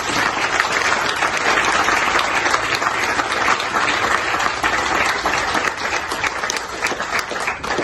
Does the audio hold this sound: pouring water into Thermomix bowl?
no